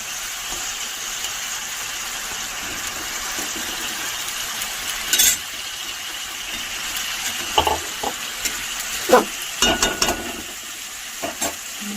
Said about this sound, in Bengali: মাছগুলো একে একে ছেড়ে দেবো